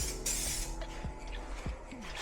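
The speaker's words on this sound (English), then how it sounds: "Now that we have our can spraying correctly, we're gonna start laying these coats down." A spray paint can hisses steadily and close up while coating a dirt bike panel, one continuous spray with no pause.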